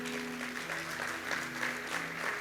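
Congregation applauding at a church service, a steady wash of clapping hands with a faint sustained musical tone underneath, moderately quiet and continuous throughout.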